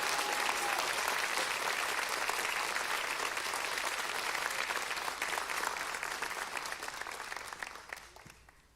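Parents in an audience at a National Junior Honor Society induction ceremony applaud in sustained, dense clapping that tapers off near the end.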